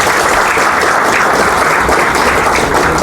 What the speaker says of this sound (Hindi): हम लोग जोरदार तालियों से स्वागत कर रहे हैं